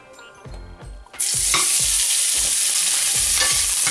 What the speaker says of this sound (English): Keep stirring the onion till it gets nice and light brown and it's equally cooked.